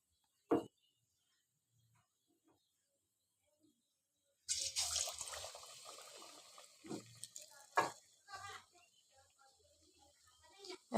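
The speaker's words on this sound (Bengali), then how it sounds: "একে একে সমস্ত চপগুলো তেলে ছাঁকতে থাকবো।" Chops go one by one into hot oil in a pan. After near silence, a busy crackling sizzle starts midway and continues with sharp pops and clatters.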